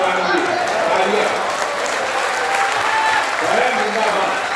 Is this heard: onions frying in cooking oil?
no